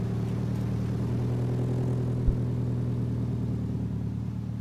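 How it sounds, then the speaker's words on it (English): A Nissan SR20 engine runs at a steady high idle with the idle air control valve unused, a close, even mechanical hum with a brief thump partway through before it cuts off abruptly. "still has a high idle, which I would expect it to when it's not using the idle air control valve"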